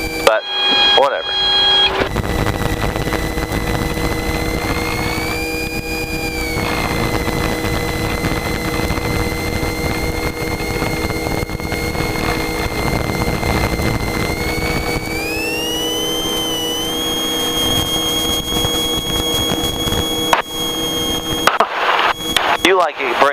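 Robinson R22 helicopter in flight, its engine and rotor making a loud, continuous droning whine with steady tones inside the cabin, pitch shifting slightly at times, while people talk over it.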